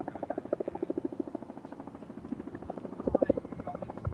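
A helicopter flies over a large street march against mandatory vaccines, its rotor chop a steady, rhythmic thumping at moderate distance that swells slightly toward the end.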